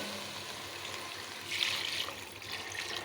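Water poured into a pot of wilted drumstick leaves for soup, a soft steady trickle and splash that grows briefly louder midway, heard alone.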